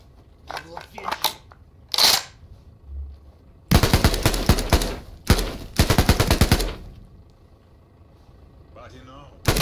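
AKM rifle fire in the video game Thunder Tier One, with bursts of rapid automatic shots close by, separated by quieter gaps and a few single reports, loud and sharp.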